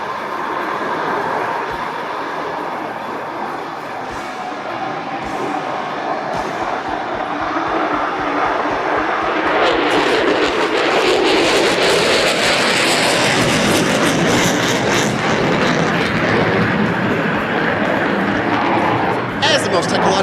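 An F-35 Lightning II fighter jet flies rolling maneuvers at an airshow, its engine roar swelling from a distant rumble to a loud, sustained broadband roar as a commentator talks over it.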